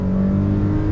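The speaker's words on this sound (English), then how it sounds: "And pulling out from the stop sign, on throttle, here we go. Drops down that 9-speed," A 2022 Nissan Frontier Pro-4X pickup with a 9-speed automatic pulling away from a stop sign, a loud steady engine drone heard close from inside the cab in one brief burst.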